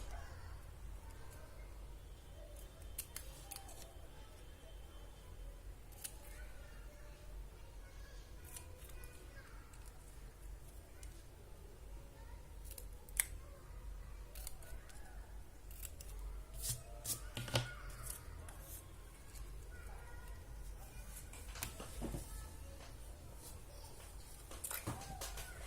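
Scissors snip through a Christmas card in a long run of short, crisp cuts, close and fairly quiet, with brief pauses and light paper rustling between strokes.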